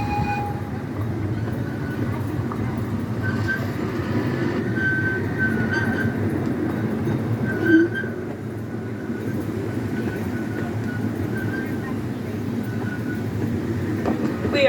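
A scenic railway train runs along its track through open woodland, heard from on board as a continuous low rumble and rattle of the cars, with faint squeals and a brief clunk midway.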